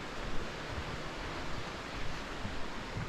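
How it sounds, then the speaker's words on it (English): River rapids near a waterfall on a hiking trail rush in a steady, broad, moderately faint roar, with no voices. "We are hearing a lot more rapids now"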